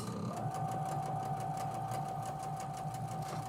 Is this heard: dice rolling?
no